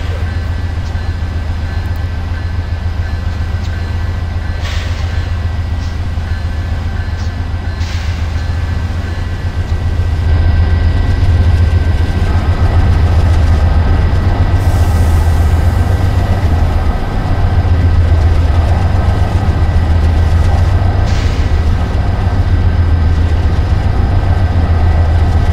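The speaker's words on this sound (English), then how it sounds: "This is the train to New London." A Shoreline East commuter train runs steadily between New Haven and Old Saybrook, a continuous low rumble with a deep engine drone that grows heavier midway, with faint clanks and rattles heard from inside the car.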